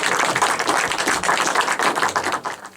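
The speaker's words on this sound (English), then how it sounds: "Can we give a huge cheer and round of applause for Warwick Davis" Audience in a room at Towner, Eastbourne, clapping for Warwick Davis, a brisk, dense round of applause that carries on steadily and starts to fade near the end.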